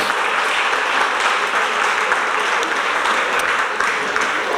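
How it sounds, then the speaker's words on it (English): A large audience at a historical foundation's annual meeting in Galveston applauds departing board members with loud, steady, dense clapping that fills the whole stretch. "Please join me in a hearty round of applause for these three departing leaders."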